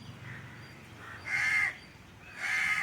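Crows give two loud, harsh caws close by, each lasting under half a second with a short pause between, and no one talks over them.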